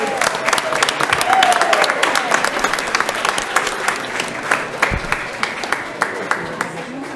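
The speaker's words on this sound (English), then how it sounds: "let's give her a big round of applause, everybody." Audience applause at a school district board meeting honoring District Teachers of the Year, steady clapping from a modest crowd with sharper individual claps standing out, some voices underneath.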